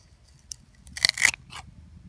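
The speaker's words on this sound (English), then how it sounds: "I've got one more cut I could possibly make." Pruning shears snipping a plant stem to remove borers, a couple of sharp close crunchy cuts in quick succession amid quiet background.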